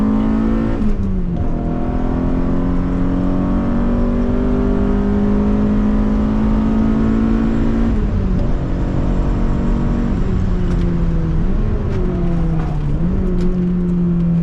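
A BMW E30 M3 engine revs hard and accelerates around the İstanbul Park track, a steady loud in-car drone climbing in pitch with brief dips at gear changes.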